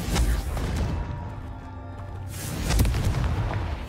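A Confringo blasting spell explodes in the Hogwarts Legacy video game, with loud, heavy booming blasts and crashing rumble filling the whole stretch and a second impact swelling near the end.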